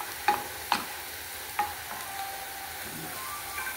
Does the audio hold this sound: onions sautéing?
yes